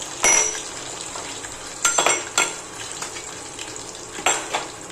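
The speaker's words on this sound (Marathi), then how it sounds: "लसणाची फोडणी एकदम छान बसायला पाहिजे ना" Hot oil sizzles and crackles with garlic in a pan on a raised gas flame, with sharp bursts of spitting every second or so and light clinks of a utensil against metal.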